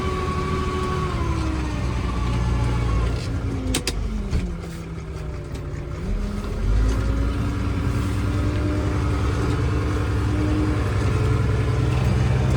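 A New Holland 110-90 tractor pulling an Özdöken strip-till rig through a field turns, its engine droning loud and steady with a rising and falling whine as the load shifts mid-turn.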